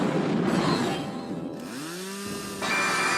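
Chainsaw sound effect in a Godzilla animation: a noisy roar that revs up into a rising, whining engine tone, then cuts to a steady buzzing drone, loud and close throughout.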